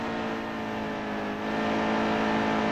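Race car engine in NASCAR Heat 2 on Xbox One, droning steadily and loudly at high revs with a slight rise in pitch, heard alone without talk.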